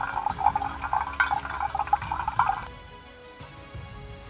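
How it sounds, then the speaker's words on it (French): Water trickling and splashing out of a camping water filter, close and continuous for a few seconds before stopping into quiet. "L'eau qui va sortir de là va être de l'eau filtrée."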